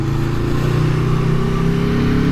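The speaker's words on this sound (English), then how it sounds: "But a V4, how could you not love this sound?" An Aprilia Tuono V4 1100 Factory motorcycle's V4 engine drones steadily at mid revs, a loud, close, continuous growl with a buzzy throb and no voices.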